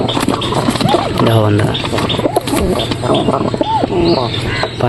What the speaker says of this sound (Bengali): দিলেই খালি ঠোকাঠুকি করে দিলেই ঠোকাঠুকি করে